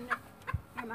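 Backyard chickens give a few short, soft clucks close by during a play session, quick and scattered across a brief moment.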